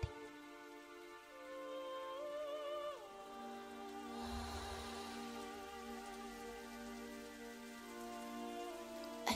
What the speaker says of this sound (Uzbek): Bu vaqtda sirtda chaqmoq chiqib, shaqirab yomg'ir yog'ishga boshlagan edi.